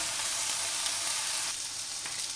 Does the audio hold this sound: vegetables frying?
yes